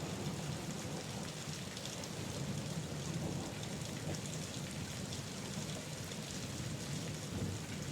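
Steady rain falls without pause, a dense even hiss of drops striking surfaces, with a low rumble of thunder rolling beneath it.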